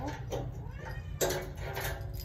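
A house cat meows several times at close range, loud short cries over a steady low hum, with no talking.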